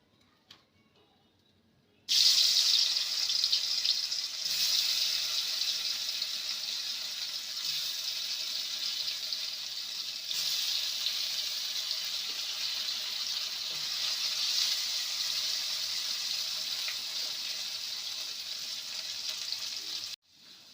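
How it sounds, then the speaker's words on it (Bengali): Potatoes frying in oil in a kadai, a steady, even hiss that starts suddenly after a quiet moment and holds at a constant level with no voices. "আলুগুলোকে ভেজে নেব"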